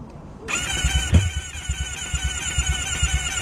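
An engine that has lost boost and is smoking cranks and catches, then settles into a rough, pulsing idle with a steady low throb up close.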